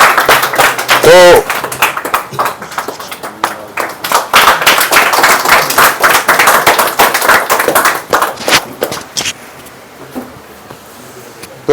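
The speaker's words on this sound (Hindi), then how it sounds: "तालियां बजाते रहना चाहिए।" Audience clapping at a Rain BNB seminar in Bhager, Bilaspur district, Himachal Pradesh: dense, loud clapping runs through most of the clip with someone talking over it, then thins out near the end.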